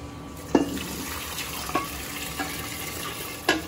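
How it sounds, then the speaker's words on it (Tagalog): Water poured into a cooking pot of beef skin balbacua, a few splashy bursts of pouring over a steady background hiss, fairly quiet and without talk. "nilagyan na natin ng tubig"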